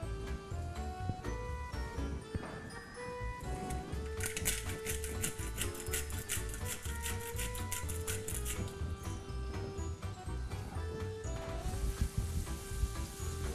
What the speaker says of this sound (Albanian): fillojmë me vajnë. Rreth 2 lukë vaj. Qepën edhe kripën